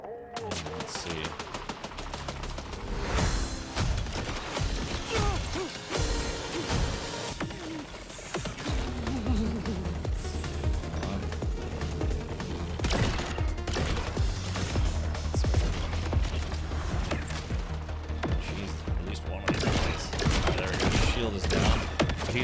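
Enemies launch grenades in the shooter game Borderlands 4, a dense barrage of rapid gunfire, crashing explosions and impacts that continues loudly throughout, with a player's voice talking over parts of it.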